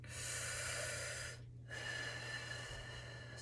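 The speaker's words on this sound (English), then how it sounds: "let's breathe" A person breathes deliberately during a fascial exercise: a long, close, airy inhale, a brief pause, then another drawn-out breath. There is no talk.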